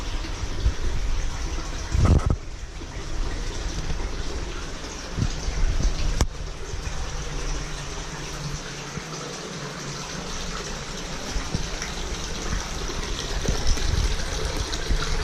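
Running water gushes and splashes continuously inside a cave, a steady close rush with a few brief knocks and surges along the way.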